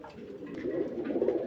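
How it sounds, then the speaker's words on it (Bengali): Pigeons sold as pet stock, including a pair of black-tailed satinette fancy pigeons, coo in a steady, low murmuring chorus close by, with no speech. "দেখেন কবুতর কাকে বলে"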